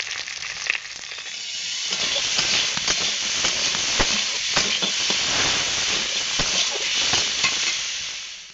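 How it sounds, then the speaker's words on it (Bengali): Prawns frying in hot oil in a kadai (wok) for a Bengali fish curry, a steady loud sizzle and hiss with scattered crackles and pops throughout, no talking. "এবার চিংড়ি মাছগুলো ভেজে নেব।"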